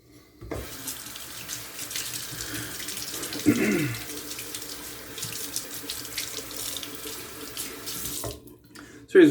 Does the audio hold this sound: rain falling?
no